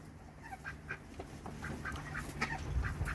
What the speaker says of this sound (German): Sehr gesunde Enten.